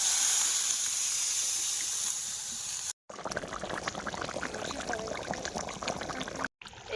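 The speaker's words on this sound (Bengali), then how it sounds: "এবার জল দিয়ে দেবো।" Water goes into chicken curry cooking in a pot over a coal fire, first as a loud steady hiss of steam and sizzle, then as bubbling, gurgling liquid with brief cuts.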